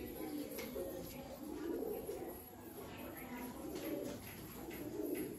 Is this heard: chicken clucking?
no